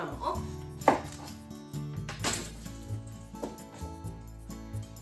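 A knife slicing the top and bottom off an onion on a cutting board, giving a few distinct close chopping knocks over faint background music.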